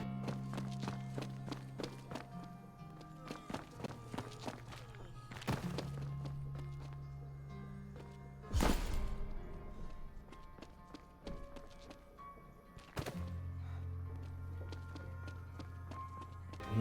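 Footsteps in No More Room in Hell 2, worn with ranger boots, thud softly and steadily on a hard floor, with a few louder knocks and thumps along the way, no talking, over a low droning game soundtrack.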